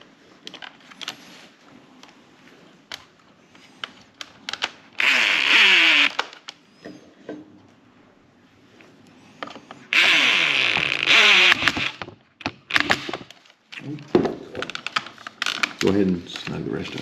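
A power tool drives screws during a stereo install in a 2016 Jeep Compass, two loud whirring bursts of about a second or more, separated by quieter clicks, handling noise and voices talking.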